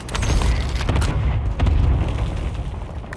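Gunfire in Warzone on Rebirth Island, a dense barrage of loud booming shots and blasts packed close together, with rumbling low-end impacts running nearly continuous for the whole stretch.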